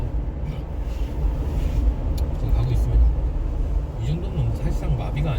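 Cars queue along a residential street in Adelaide for COVID testing during lockdown, giving a continuous low traffic rumble with engines idling and creeping forward, with people talking close by.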